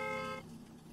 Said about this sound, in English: Why would I ever need to honk my horn?